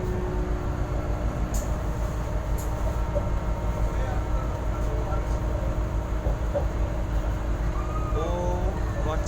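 Inside the KA Jenggala train running from Sidoarjo to Gresik, a steady loud rumble and drone of the carriage fills the ride, with a few rail squeals and clanks and people talking over it.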